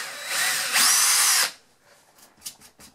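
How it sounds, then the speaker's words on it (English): An electric drill bores a hole for a caravan outdoor electrical socket, a loud whirring run of about a second and a half, then stops, followed by a few faint clicks and knocks. "I hope I'm using the smallest drill bit that I've got"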